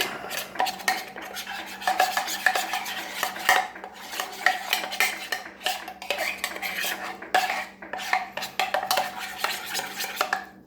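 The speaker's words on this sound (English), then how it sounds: "Going to use our West German knife, fork, and spoon to stir it up." A metal West German knife, fork and spoon stir food in a metal container, giving irregular close clinks, scrapes and rattles that come and go in quick bursts over a faint low hum.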